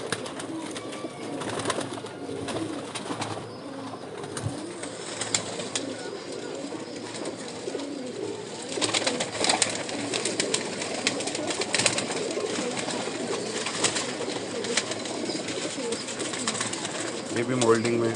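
Breeding pigeons cooing in a rooftop loft, repeated low throaty coos close by with occasional wing flutters, while someone talks over them throughout.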